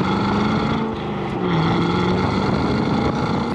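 Cadillac CT5-V Blackwing exhaust roaring on a road among big rock cuts of the Canadian Shield, a loud sustained engine drone with shifting pitch and wind buffeting the microphone.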